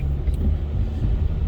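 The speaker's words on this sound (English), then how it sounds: "You hear the car picking up, accelerating" A car pulling into traffic and accelerating toward a 40 speed limit, its low engine rumble steady and close throughout, filling the cabin with a continuous droning hum.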